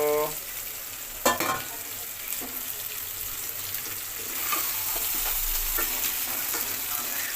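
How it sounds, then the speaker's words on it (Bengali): Two kilos of crab in a spicy curry stirred and frying in a pan, a steady close sizzle with scraping stir strokes and a sharp clatter near the start. "এখানে দুই কিলো কাঁকড়া ছিল একটু নেড়ে চেড়ে ঝোল দিয়ে দেব"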